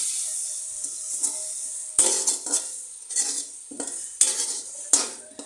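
Ginger, garlic, green chili and mint paste being stirred in a pan for chicken biryani, repeated spatula scrapes and metallic clanks over a light sizzle, near and distinct, with no speech.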